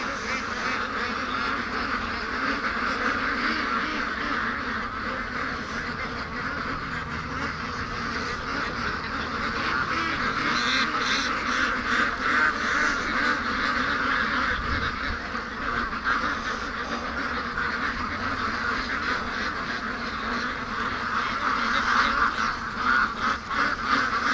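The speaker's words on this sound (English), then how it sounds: "Come on, ducks, I'm right behind you." A flock of free-range ducks quacks continuously at close range, with many overlapping calls over outdoor background noise.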